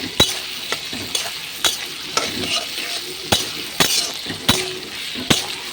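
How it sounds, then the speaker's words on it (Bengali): Vegetables fry in mustard oil alongside dal in a home kitchen, a steady sizzle broken by sharp clinks of a spatula stirring against the pan roughly once a second, close and clear with no talk. "এখন সবজিগুলো ভাজা ভাজা করে নিতে হবে"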